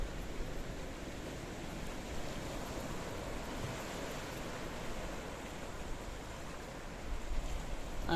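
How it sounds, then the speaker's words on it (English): Mediterranean Sea waves lap on the rocky coastline at St George's Harbour, Peyia, Cyprus, a soft continuous wash of surf with gentle swells and some wind, moderately quiet and without talk. "I want to show you these waves as they lick and lap on the coastline of St George"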